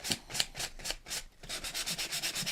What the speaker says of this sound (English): So I'm just using a little bit of sandpaper, a sanding sponge, sanding disc, just to distress these wings